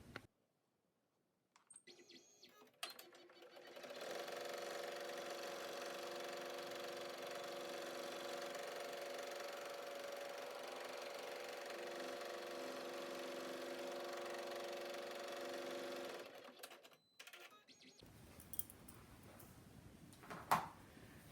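An embroidery machine stitches down a clear vinyl window face mask in the hoop, a steady mechanical whirring hum running for about fifteen seconds, with handling clicks before and after.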